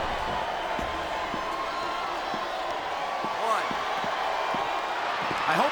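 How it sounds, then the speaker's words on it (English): Arena crowd noise in the wrestling video game Smackdown vs Raw 2007, a steady roar from a capacity audience with scattered thuds and slams, continuous throughout and swelling slightly near the end. "It sounds like this capacity crowd has something on their minds,"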